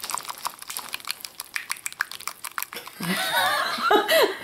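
Wet, squishy slurping and squelching noises from a soft gooey substance, with quiet clicks and chuckles mixed in.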